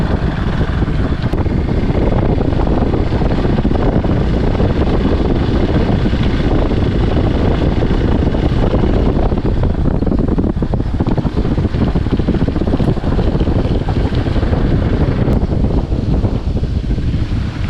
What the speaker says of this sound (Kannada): ಮಳೆ ಬರ್ತಾ ಉಂಟು, ಹಾಗೆ ಮೈಕ್ ತೆಗ್ದಿದ್ದೇನೆ.